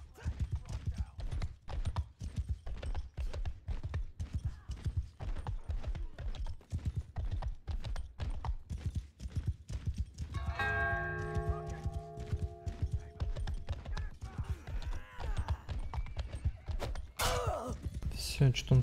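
Horse hooves clip-clop in a fast, steady rhythm throughout a Mount and Blade 2: Bannerlord multiplayer cavalry battle, with a tonal whinny partway through and busy combat noise around it.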